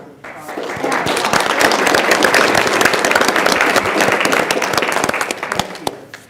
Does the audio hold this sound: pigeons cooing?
no